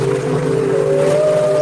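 A long, mournful whale cry sound effect rises steadily and sustains loudly throughout, with a deep undertone beneath it.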